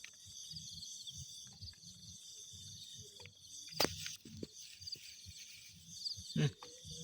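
Crickets chirp in an outdoor spot with a steady high-pitched trill running throughout, while a person talks nearby and a few rustling knocks break in.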